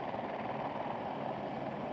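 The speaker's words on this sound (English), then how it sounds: "Look at the helicopter behind the CBS News." A news helicopter flying nearby during a Starlink launch broadcast, a steady broadband rotor and engine roar that holds at constant loudness throughout with no talk over it.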